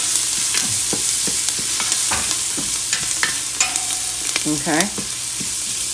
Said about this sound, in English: Now to my pot, I'm going to add in my minced garlic.